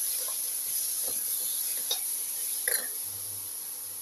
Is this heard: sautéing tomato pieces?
yes